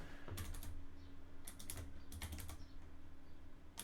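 Short bursts of quick keystrokes on a computer keyboard, a few clusters of clicks with pauses between, quiet and close.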